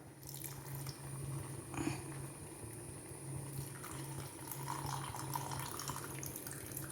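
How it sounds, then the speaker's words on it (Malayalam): Tamarind water poured into a pot of sambar made without dal, a soft continuous trickle and splash of liquid, close and fairly quiet, with no talking. "ഇനി പുളിവെള്ളം ഒഴിച്ചു കൊടുക്കാം"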